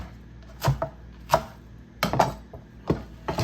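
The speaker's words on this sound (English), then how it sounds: "While I'm cutting the second round of leeks here, or the third one I should say" A knife chops through leeks on a cutting board in slow, irregular strokes, each a sharp close thud, five or six cuts with quiet pauses between.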